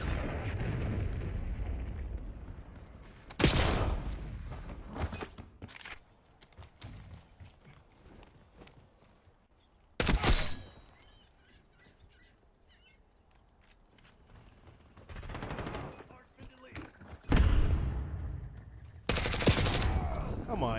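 Archangel strike firing in a video game: heavy bursts of gunfire and explosive blasts hit in several loud clusters, separated by quieter stretches of game sound.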